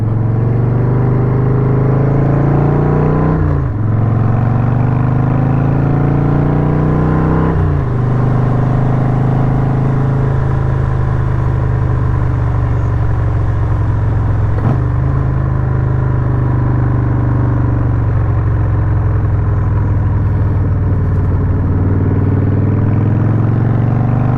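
A 2003 100th Anniversary Harley-Davidson Sportster being ridden around a lap, its steady loud engine drone broken by gear shifts every few seconds, with the pitch dropping and climbing again after each shift.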